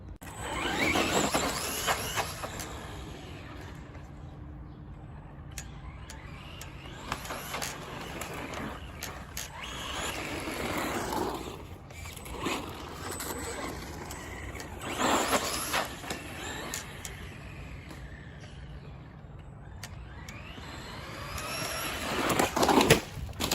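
Traxxas Stampede 4X4 VXL RC truck driving and rolling over, with bursts of whining motor and scraping tumbles rising and fading across a steady rough background, loudest near the start, middle and end.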